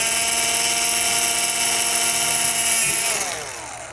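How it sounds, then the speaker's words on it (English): A power drill with a brand-new 1/4 inch bit bores lug holes into a bass drum shell. A loud, steady high whine runs throughout and winds down at the end. "this is a brand new 1/4 inch drill bit, and I'm gonna drill the holes for the lugs here"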